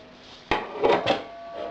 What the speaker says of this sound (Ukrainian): Легенько перемішую.